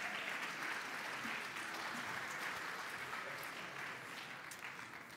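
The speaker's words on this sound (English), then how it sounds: "Everybody give a big round of applause." A room of people applauding together, steady dense clapping that holds even and moderately quiet for several seconds, easing off slightly at the close.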